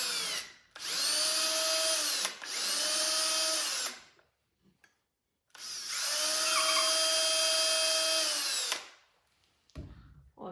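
Power drill with a bit boring into wood for joinery: two close, loud whirring runs separated by a pause, the first briefly interrupted, with a short clunk near the end.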